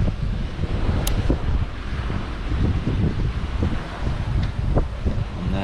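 Steady wind buffeting a sailboat under sail at sea with about 17 knots of apparent wind, a loud continuous rushing roar across the microphone with water wash beneath and occasional faint clanks.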